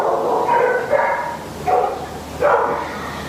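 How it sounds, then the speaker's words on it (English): Several dogs nearby bark in short, repeated bursts during a quiet indoor yoga session, a handful of mid-loud barks and yips spread across a few seconds with no talking. "Hopefully the dogs around me quieten down."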